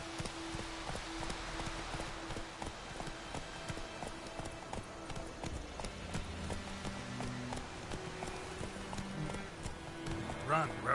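Roach the horse galloping in The Witcher 3: Wild Hunt, a steady rapid clip-clop of hooves running throughout at moderate volume, with a voice heard over the hoofbeats.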